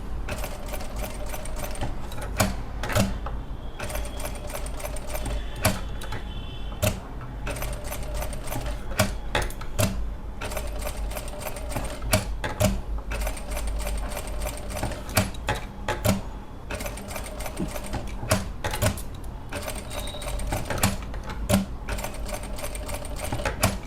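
A sewing machine stitches circular resham embroidery in a run of rapid, close mechanical clatter, pausing and restarting in short bursts as the work is turned.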